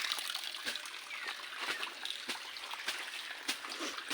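Water is poured out of a plastic gallon jug and splashes steadily, with small irregular glugs and splatters. It is fairly faint and continuous, and a voice can be heard faintly underneath.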